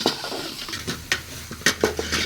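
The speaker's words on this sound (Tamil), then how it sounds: "இப்போ தக்காளி நல்லா வதங்கட்டுங்க, அதுக்கப்புறம் பார்க்கலாம்" Tomatoes and coriander are stirred and sautéed in a pan, with a soft background sizzle and sharp scraping and clinking knocks as the utensil strikes the pan at irregular intervals.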